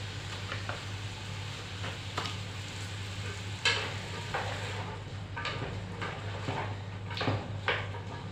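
Onion sautéing with potatoes in a pan for potato koshari, a steady low sizzle broken by repeated scraping strokes of a spoon stirring, close and moderately loud.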